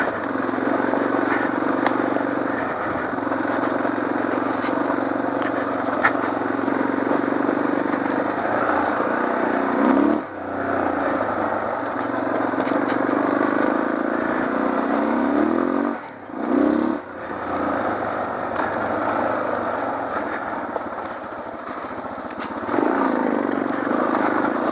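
A Suzuki DR650 motorcycle engine drones steadily and loudly throughout an offroad ride, with continuous engine roar and brief dips in level near the middle before the motor picks back up.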